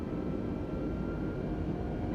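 An Airbus airliner in Microsoft Flight Simulator flies with a steady, low, droning engine rumble, continuous and even in loudness throughout.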